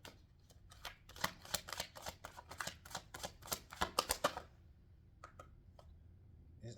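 Tarot cards shuffled in a rapid run of crisp riffling flicks for about four seconds, then a few soft isolated card taps in a quiet room.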